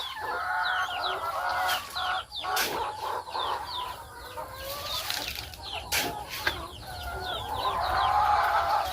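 Flock of about 200 farm chickens clucking and squawking continuously at close range, with wing flapping and scattered sharp calls throughout, no talking.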